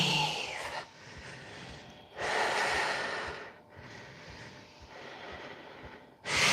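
Slow, deep breaths during a yoga flow, sharp nasal inhales alternating with long, soft exhales in a steady rhythm, close and quiet with no talking.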